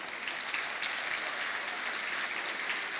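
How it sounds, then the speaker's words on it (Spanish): A congregation at a church service gives a loud, continuous round of applause, an even wash of many hands clapping throughout with no voices standing out. "Démosle un fuerte aplauso."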